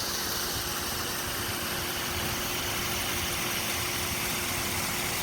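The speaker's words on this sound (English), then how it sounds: "That's the grinder mixer down below," A steady, loud tractor engine drone with a constant mechanical hum from a grinder mixer runs without a break, the machine operating continuously nearby on a farm.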